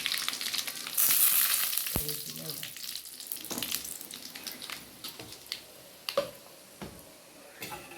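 Mustard seeds in hot oil sizzle and crackle steadily, with sharp pops and spatters breaking through the frying noise.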